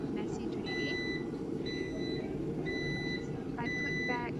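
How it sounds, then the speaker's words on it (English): A kitchen egg cooker beeps in four evenly spaced pulses to signal the eggs are done, each a short high electronic tone, over a steady low hum with faint background talk. "So you hear that beeping noise, that's the one indicating that the eggs have cooked."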